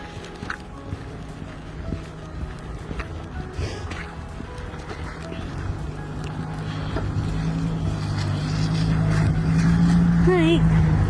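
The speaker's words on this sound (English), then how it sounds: "Another car coming." A car comes along a quiet small-town road, its engine noise swelling from distant to near over several seconds, with people talking nearby outdoors.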